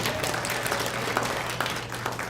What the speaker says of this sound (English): give him a big round of applause, too